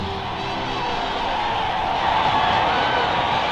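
A crowd roars and cheers steadily at the annual Bormio downhill ski race as a 74-year-old racer, Cacciatore, comes into view; the broad wash of voices holds loud and continuous throughout.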